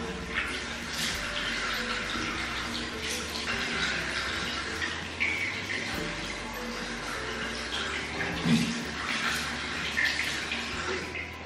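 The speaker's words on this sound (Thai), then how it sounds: "เดี๋ยวมาล้างออกกันดีกว่าว่าพอล้างออกแล้วเป็นยังไงบ้าง เวลาล้างผิวจะลื่นๆ" Water splashing and running while a face mask is rinsed off the skin, a soft continuous wash of trickling and splashing at moderate distance with occasional brief spikes.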